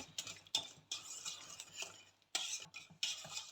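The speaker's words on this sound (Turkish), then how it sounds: "Evet şimdi böyle karıştıracağım vanilyam ve margarinimin erimesi için." A spoon stirs vanilla and margarine melting in a pot, with close, quiet scraping and clinking strokes against the metal in an uneven rhythm and no talking.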